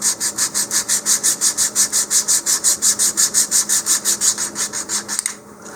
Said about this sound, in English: I'm just going to basically sand an angle into it on each side.